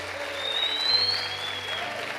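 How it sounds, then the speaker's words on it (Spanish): Church congregation applauding during a Spanish-language evening sermon, a steady wash of clapping at moderate distance that holds for about two seconds with a slight swell midway. "Si le va a aplaudir, apláudale de verdad al Señor."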